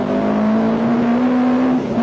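An Opel Manta 400 rally car at the 1987 British Midland Ulster Rally drones steadily at speed, a close, loud, sustained engine note heard from on board.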